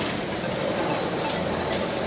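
A roller coaster train pulls out of the station with a steady, dense mechanical rumble and rattle that holds at an even level throughout, with no voices.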